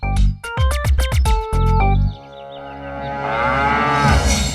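A buffalo moos in a drawn-out, loud call at a family home with a dairy business, preceded by a burst of bright, rhythmic music stabs and followed by a rising tonal swell.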